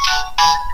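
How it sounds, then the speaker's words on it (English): A mobile phone ringtone sounds in two bright, loud electronic tone bursts with a brief break between them, close up, with a single word spoken over it. "Okay, what was that? That was my phone"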